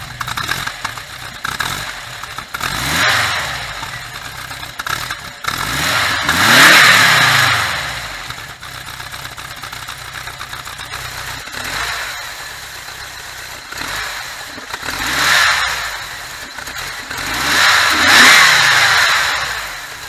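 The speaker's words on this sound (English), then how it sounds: "hop inside, do a few revs, and see how it sounds" The engine of a 1988 VW Transporter T3 Westfalia is revved repeatedly from idle, about five distinct throttle blips rising and falling over a steady close-up idle.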